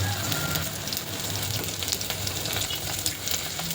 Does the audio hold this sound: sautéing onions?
yes